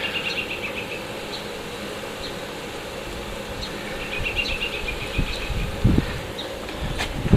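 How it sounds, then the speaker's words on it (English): Steady wind rumbles and buffets outdoors, with low gusty noise swelling louder toward the end and a faint high insect-like hum throughout. "Sorry about the wind, guys."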